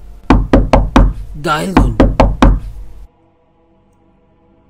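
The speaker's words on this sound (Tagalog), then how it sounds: "Lalong naging malakas ang pagkatok sa kanyang pintuan." Several loud, heavy knocks strike a door in a quick series, then stop abruptly. A voice speaks briefly among the knocks, and near-silence follows.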